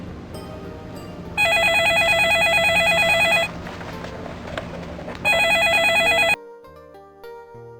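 A telephone rings in two loud electronic bursts with a pause between, set in the 1994 PC crime game Flash Traffic: City of Angeles, followed by quieter room tone.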